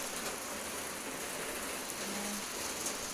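Heavy rain pours steadily during a storm in rural Laos, a dense, continuous hiss of drops hitting surfaces with no breaks.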